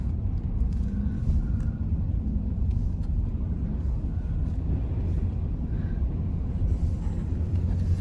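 Car driving along a road, heard as a steady low rumble of engine and road noise that continues unbroken, with no voices.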